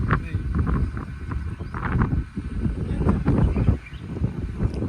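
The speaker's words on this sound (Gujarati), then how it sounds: "ઠંડો વાયરો આવે" Gusty cold wind buffets the microphone in rough, rumbling waves during a pilgrimage walk, with voices faintly mixed in.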